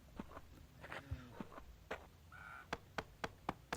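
Crow-like caws from birds in the video game Survival Craft, a few quiet calls early on, then a run of sharp, evenly spaced clicks like footsteps, all faint and isolated.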